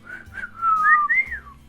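A person whistles a short, clear melodic phrase of a few rising and falling notes, close and fairly loud, with no talk.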